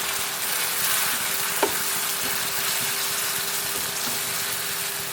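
Hot water goes into fish masala simmering in a pan for fish pollichathu, giving a steady, close sizzling hiss that runs throughout with a faint bubbling undertone.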